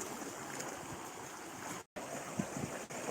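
Sea waves wash against a beach in a steady, broad rush of surf, close and fairly loud, with a brief dropout partway through and no one talking.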